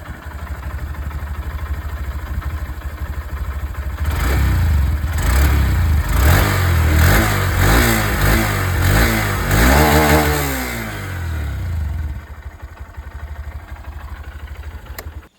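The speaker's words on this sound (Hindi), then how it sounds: "एग्जॉस्ट साउंड इसकी भी सुन लीजिए।" A 125cc commuter motorcycle, either a Honda SP125 or a TVS Raider 125, idles steadily, then its exhaust is revved in a series of blips for several seconds before settling back to idle.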